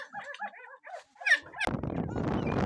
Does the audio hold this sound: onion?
no